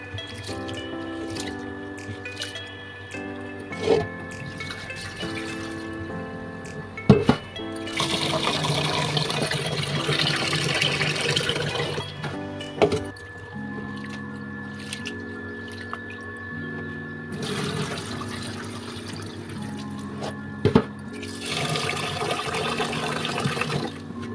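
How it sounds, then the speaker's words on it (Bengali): Tap water runs into a cooking pot in a home kitchen, a steady splashing stream that swells and fades in stretches, broken by occasional clunks and drips, with no one talking. "সকাল সকাল হাঁড়িটা ধুয়ে নিয়ে আমি জল ভরতে শুরু করে দিয়েছি।"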